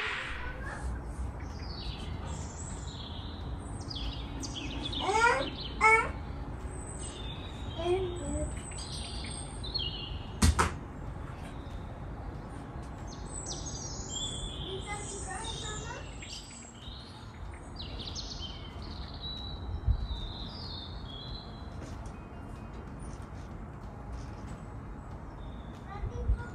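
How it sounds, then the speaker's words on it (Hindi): Birds chirp and call outside from a small wooded area at dusk, scattered bright tweets and short trills at moderate distance, heard beneath someone talking. "बाहर से बहुत प्यारी जो है वो चिड़ियों की आवाज़ें आ रही थी।"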